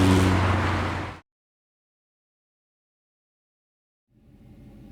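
A Volkswagen Touareg V8 4.2 FSI converted to run on gas drives along, its loud engine and road roar heard for about a second before cutting to silence, then a fainter engine sound fades back in at the end.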